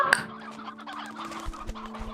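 Chickens cluck softly nearby in a backyard flock, low murmuring clucks with a few sharper notes over a steady background hum.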